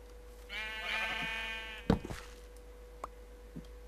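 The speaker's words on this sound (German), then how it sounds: "Oh Mann, dieses sackendämliche Schaf, ey." A sheep in the Minecraft video game gives a single clear, mid-loud bleat with a wavering tone. It is followed by a few soft knocks and thumps.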